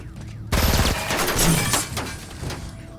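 A big gun fires in a sudden burst of loud gunfire that cuts in abruptly, followed by rattling, crashing noise that tapers off over a couple of seconds.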